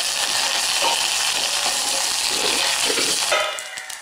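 Curry leaves dropped into hot oil with dried red chilli pieces to temper tomato rasam, a loud, dense, steady sizzle that fades toward the end, close up and with no talking.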